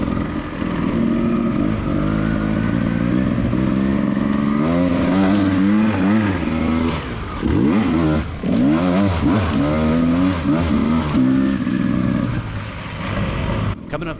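Beta 300 RR two-stroke dirt bike racing a muddy hare scramble, engine revving and bogging continuously up close, pitch rising and falling with throttle changes under constant wind and riding noise.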